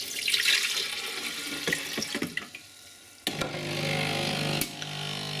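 Water splashes and gurgles as it is poured into the plastic tank of a Melitta Latticia OT coffee machine during descaling, with a few clunks and handling knocks, then a steadier pouring flow.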